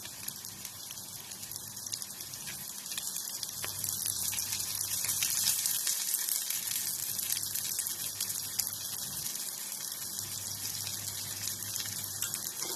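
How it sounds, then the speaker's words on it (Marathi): A little oil poured over aloo poha vada frying on a pan brings up a steady hissing sizzle that swells slightly and keeps crackling softly, with no talking. "आता याच्यावर थोडंसं तेल सोडायचं."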